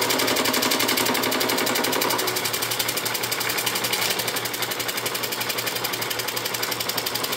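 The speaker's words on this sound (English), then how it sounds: "notice how you can't see the cutter there because it's spinning, it's in motion" A fly cutter spinning on a Bridgeport milling machine surfaces a flat plastic slider part, producing a rapid, even machine-gun-like chatter of cutting ticks, loud and close, easing slightly in tone partway through.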